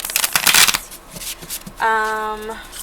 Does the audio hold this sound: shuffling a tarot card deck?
yes